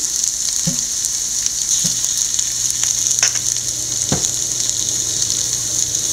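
Onions sautéing in a pan with turmeric, chili powder and salt for an onion thoran, giving a steady close sizzle throughout, with a few clinks and scrapes of stirring on top.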